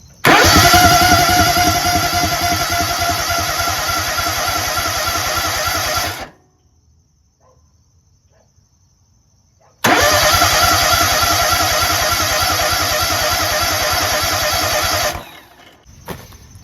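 A Kohler EFI engine with a high-pressure electronic fuel pump cranks loudly and steadily for about six seconds, pauses in near silence, then cranks again for another five seconds before stopping.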